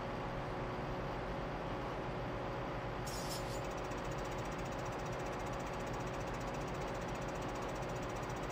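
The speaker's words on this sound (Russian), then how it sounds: "Видите, у нас комбайнеры уже пошли. Приехал трактор с бочкой." Tractor and combine engines rumble steadily in Farming Simulator 15 during a grain harvest, a dense, continuous drone with a brief brighter hiss partway through.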